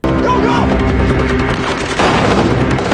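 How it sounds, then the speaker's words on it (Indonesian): Loud, dense gunfire and booming blasts fill an action film scene, with a rapid volley of shots and impacts throughout and a louder burst near the end. "yang menembaki mereka, dan Ajani bersama pengawal lain bertumbangan akibat serangan kejutan itu"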